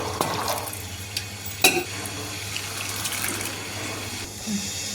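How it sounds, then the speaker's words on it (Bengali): Green peas are washed in water for a wedding feast, giving soft sloshing and splashing with a sharp clink partway through, close and fairly quiet. "তো এখানে মটরগুলো জল দিয়ে ধুয়ে নেবো"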